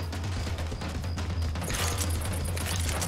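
Rapid magnum pistol shots crack out in Left 4 Dead 2 gameplay on Realism Expert, loud and close over a steady low game drone, with a denser burst of gunfire crowding in during the last half.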